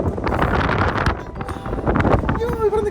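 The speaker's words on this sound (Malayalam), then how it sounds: "തണുത്ത കാറ്റും സ്നോയും" Gusty, snowy cold wind buffets loudly and roughly throughout on Deception Island, Antarctica, rumbling against the microphone while a voice speaks near the end.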